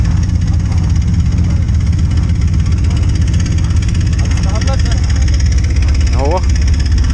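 Several UAZ and Japanese cars queued at a snow racing event idle with a low, steady rumble, a constant mechanical drone close by with faint chirps above it.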